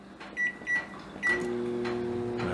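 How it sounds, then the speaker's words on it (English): A microwave oven hums steadily with a low, even drone after a few door and button clicks, running a one-minute heating cycle on a loosely lidded container of seed-starting mix. "we're going to put it in the microwave again"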